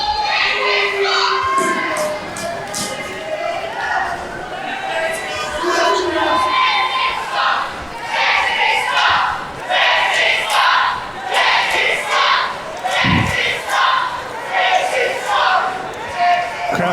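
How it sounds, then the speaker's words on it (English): A large wrestling arena crowd shouts and jeers at wrestler Caine Carter in a loud, continuous roar with rising swells, under an excited commentator's voice. "Crowd letting Caine Carter know what they think about Texas."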